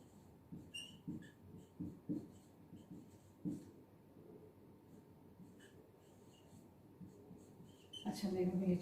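A pen or chalk scratches out a mathematical expression on a board in a series of short, quiet strokes, with a teacher's voice speaking at times.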